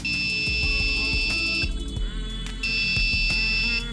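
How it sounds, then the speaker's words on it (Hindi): Buzzer horn on a smartphone-controlled RC robot car sounds in two long, steady, shrill electronic tones separated by a short gap, close and loud over a low background hum, with no talking. "अब हम बज़र को बजा के देखेंगे"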